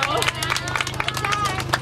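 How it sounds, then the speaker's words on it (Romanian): A small gathering claps for a woman's birthday at a community event in Mangalia, a close, lively patter of hands mixed with voices and light chatter. "Aplauze!"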